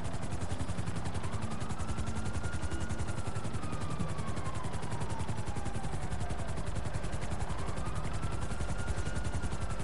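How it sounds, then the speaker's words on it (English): Helicopter in the video game GTA 5 whirs with rapid, steady rotor chopping and a droning engine whine that rises and falls, loud and continuous throughout. "I got a helicopter."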